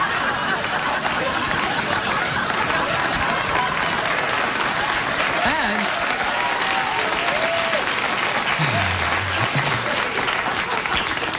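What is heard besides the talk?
studio audience applause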